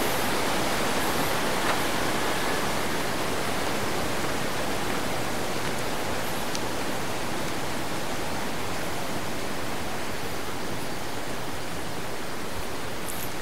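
The flooded Bogowonto river rushes past close by, a dense, steady roar of water continuing unbroken and loud with no talk.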